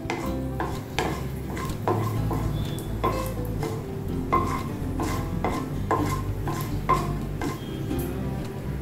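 Whole mustard seeds and two small dried red chilies frying in a pan, a steady close sizzle broken by repeated clinks and scrapes of a utensil against the pan.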